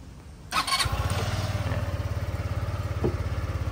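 A Kymco Dink R 150 scooter engine starts and settles into a steady, throbbing idle, close and fairly loud, with a fast low pulsing rhythm and no talk.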